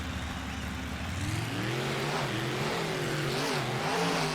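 Racing trucks at the Indianapolis Lucas Oil track pulling away together at the green flag, several engines rising in pitch as they rev and accelerate, loud and continuous with no pause.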